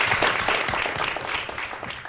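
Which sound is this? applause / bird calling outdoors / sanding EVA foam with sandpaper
applause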